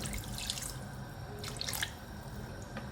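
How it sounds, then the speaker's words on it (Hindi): Water poured from a cup into a pot of Muradabadi chicken yakhni pulao, a steady close splashing trickle that runs the whole time, with no talk. "थोड़ा सा पानी और डालूँगी मैं"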